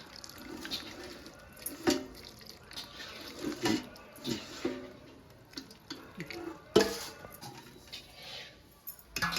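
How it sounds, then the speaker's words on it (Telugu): Warm sugar syrup for gulab jamun is poured from a pan over a ladle, giving soft, uneven splashing and trickling with occasional drips and light clinks, quiet and close. "పాకమైతే ఇందులో పోస్తున్నాను."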